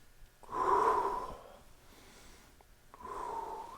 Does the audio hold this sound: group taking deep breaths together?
yes